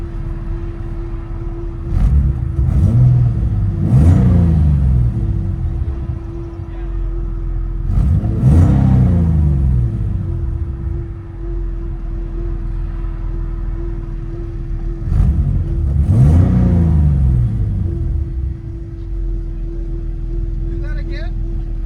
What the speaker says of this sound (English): There's the S52 BMW motor.